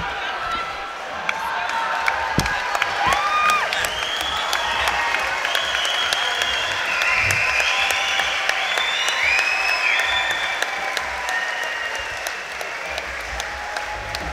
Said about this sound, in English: can I have a big round of applause for both gladiators, please?